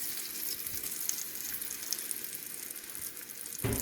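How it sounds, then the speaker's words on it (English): Egg mixture for a Western omelet sizzles steadily in a hot pan, a close, continuous hiss with a brief clatter at the end. "We'll add our mixture, egg mixture for our omelet."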